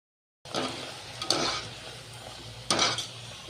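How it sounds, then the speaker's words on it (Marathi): Puris frying in hot oil, a sizzle that starts after a brief silence, with two bursts of louder bubbling and utensil clinks. "आणि ह्या पुऱ्या आता मी तळून घेणार आहे"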